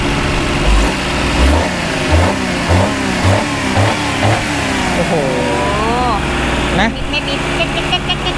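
A carbureted Yamaha Mira Mint motorbike engine running steadily with a low, even throb and some blips of throttle, while someone talks over it throughout.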